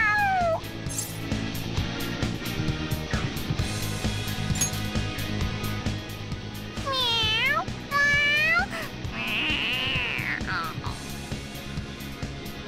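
A cartoonish cat character meows and yowls repeatedly in Persona 5 during Kamoshida's Palace, rising and falling cries over game music and voiced dialogue.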